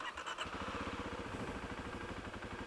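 A Kawasaki KLX300 motorcycle engine idles unevenly with a steady low putter, its pulses wavering slightly in pace, heard close and alone without speech.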